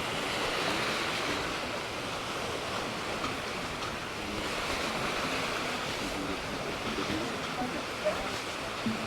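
Waves washing onto a natural beach at Naklua, Pattaya, Thailand, a continuous broad surf hiss with gentle swells and some wind buffeting the microphone.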